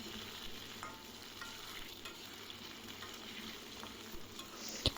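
Potatoes and steamed radish fry in a pan with a steady, close sizzle and crackle, joined now and then by light scrapes of stirring, with no voices.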